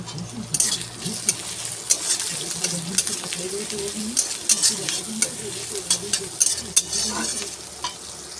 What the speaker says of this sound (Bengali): ওই তেলের মধ্যেই পেঁয়াজটা দিয়ে দিয়েছি, পেঁয়াজ ভাজা হতে থাকুক তাহলে